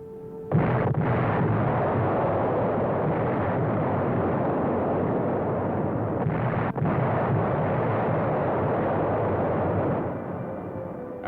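Dense, continuous rumble of WWII artillery fire around a German-held town, loud and sustained with sharp bursts near the start and around the middle, fading slightly at the end.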